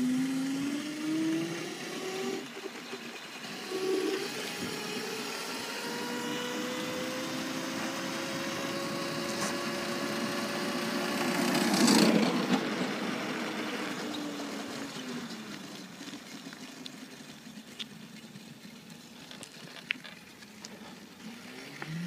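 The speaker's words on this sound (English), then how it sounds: "motor sounds a little weird, I know." The motor of an E-zip electric scooter runs close by with a thin, whining hum that climbs in pitch, swells to a peak near the middle and then eases back down to a steady, quieter whir.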